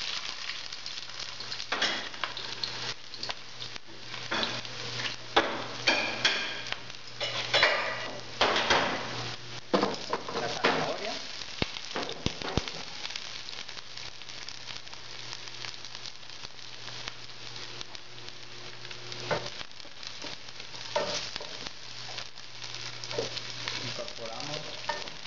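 Garlic and onion fry in a generous pour of hot olive oil in a pan for a pizza tomato sauce, giving a steady close sizzle with occasional stirring scrapes and clinks throughout, with no talking.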